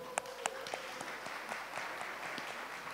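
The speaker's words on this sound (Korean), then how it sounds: "자, 박수." A church congregation at a Korean Sunday service claps quietly from a distance, a few sharp claps standing out over a soft, thin patter.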